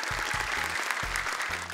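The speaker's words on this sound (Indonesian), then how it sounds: "Oke, tepuk tangan dong buat Arim dan juga Azkia." Applause from an audience at an Indonesian Quran recitation competition show, dense continuous clapping throughout, fairly loud and close, with low thumping music pulses underneath and no clear speech.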